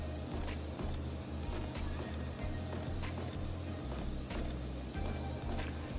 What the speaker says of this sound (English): print out the design on a transparency film from a Canon printer